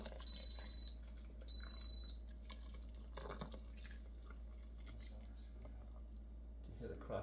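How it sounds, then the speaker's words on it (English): An Instant Pot pressure cooker gives two short electronic beeps as it switches on in a kitchen, followed by quiet clinking and faint background sounds. "You hear the Instapot there coming on."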